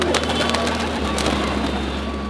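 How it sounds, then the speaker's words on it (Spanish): Pigeons coo in a small rooftop dovecote in a crowded Egyptian garbage-city neighbourhood, soft close calls over a steady low hum and ambient noise. "Parece que aquí tenemos un pequeño palomero donde guardan palomas"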